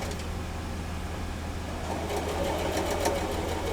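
A home sewing machine runs steadily, stitching a seam straight down a quilt block, a continuous near motor whir that grows slightly louder and busier in the second half.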